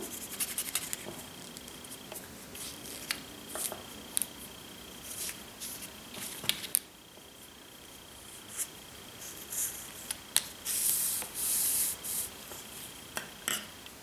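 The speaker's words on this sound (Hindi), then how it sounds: "अब हमने यहां से ऐसे नीडल पास करनी है यूं" Soft rubbing and scratching as a hand embroidery needle passes through fabric while a bullion flower is worked, faint and close, with light ticks and rustles and no talking.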